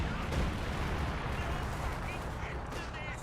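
Artillery barrage in Company of Heroes 2, a dense, continuous rumble of overlapping blasts and crackling impacts, loud and close throughout with a voice faintly underneath.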